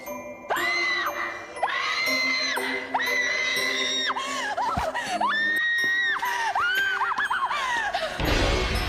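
Person in a film screaming on seeing blood spattered across a floor, a series of long, loud, shrill wails repeated with short breaks and rising and falling pitch, closing in a harsh noisy burst.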